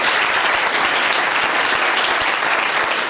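Church congregation gives loud, sustained applause, a dense steady clatter of many clapping hands filling the whole stretch without pause.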